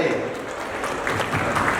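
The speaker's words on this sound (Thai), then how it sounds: "อ่าขอเสียงปรบมือกับน้องอามด้วย" An audience at a film gala screening applauds in a steady wash of clapping that lasts under two seconds, mixed with crowd murmur.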